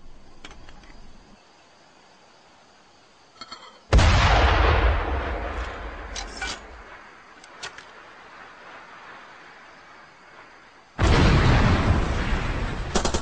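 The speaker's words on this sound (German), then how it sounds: "Die größte Wumme ist dieser Mörser, mit dem Sie immens weit schießen können." Mortar rounds fire in the open-world shooter Far Cry 2: two loud, sharp booms several seconds apart, each followed by a rumbling decay, with quieter gunfire-like crackles and faint ambience between them.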